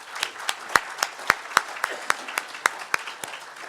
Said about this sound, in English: let's give a great round of applause to the Fraser Valley Real Estate Board